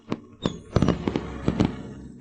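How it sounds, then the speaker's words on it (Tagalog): Birthday firecrackers go off in a rapid, irregular string of sharp pops and bangs that crowd together, loud and fairly close, with no talking. "Bakit may nagpapaputok?"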